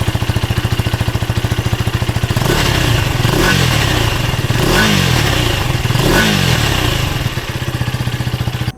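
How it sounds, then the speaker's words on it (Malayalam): A 2024 KTM Duke 250 with its new liquid-cooled LC4C engine idles with a steady thump, then revs sharply several times, each blip rising and falling, loud and close with no talk. "ഇതിൻ്റെ എക്സോസ്റ്റ് നോട്ട് എങ്ങനെയുണ്ടെന്ന് നമുക്ക് നോക്കാം."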